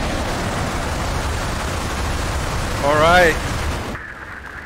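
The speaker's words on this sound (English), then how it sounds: "We have liftoff of our huge Saturn rocket." Rocket liftoff in the Mars Horizon space-program game, a huge Saturn rocket launching: a loud, steady roaring rumble with a rising whistling tone near the end before it cuts off abruptly, with a brief spoken voice.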